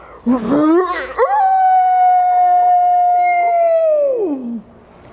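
A voice imitates a wolf's howl: a rising yelp, then one long, steady, loud howl sustained for several seconds before sliding down and fading.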